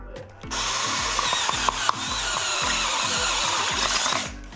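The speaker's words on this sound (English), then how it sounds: "I'll drill a hole here." A power drill whirs steadily for about four seconds, boring a hole in a tilting car transporter trailer with a continuous high grinding whine and faint rhythmic pulsing underneath, close by.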